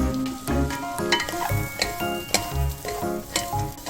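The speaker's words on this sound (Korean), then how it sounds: "들기름에 이렇게 한번 볶아주세요." Julienned radish stir-fries in perilla oil in a pan, sizzling close up while a utensil scrapes and clinks against the pan in an uneven rhythm, with no voices.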